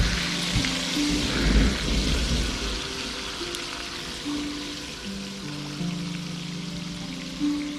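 Steady rain hisses continuously, with a low rumble and a few tonal hums running underneath.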